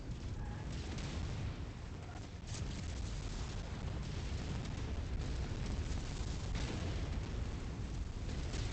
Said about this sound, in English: I think I saw ammo explosions.